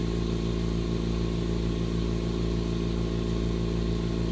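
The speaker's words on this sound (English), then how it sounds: "turn off your air compressor" An air compressor feeding a hyperbaric oxygen chamber runs in a steady, close, droning hum with a constant mechanical buzz, unchanging throughout and heard alone.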